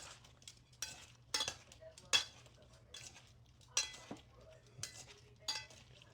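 Salad tossed with tongs after a splash of red wine vinegar, for an oil-free plant-based plate: a series of light, crisp clinks and rustling scrapes in short bursts, close and fairly quiet, with no talking.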